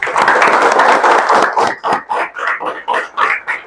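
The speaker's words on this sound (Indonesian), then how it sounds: "Masya Allah, tepuk tangan dulu." Students in an Islamic religious education classroom burst into applause, a sustained dense patter of clapping that breaks into short rhythmic bursts of claps toward the end, fairly loud and close with little talk.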